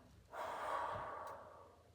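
A single slow, breathy exhale during a plank in a mobility stretching routine, rising softly and fading over about a second, quiet and close with no speech.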